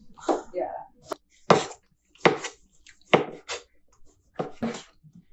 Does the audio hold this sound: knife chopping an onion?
yes